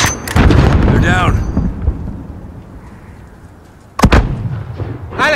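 Heavy booming blasts and gunfire in Call of Duty: Modern Warfare combat, two loud close explosions with rumbling decay between them, brief voices in the mix.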